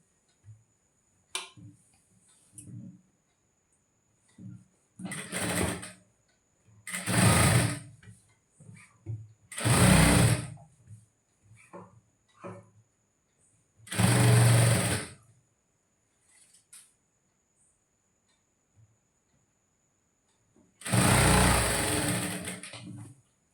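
A sewing machine stitches a blouse in several separate loud bursts of a few seconds each, with quiet pauses and faint small handling sounds between runs.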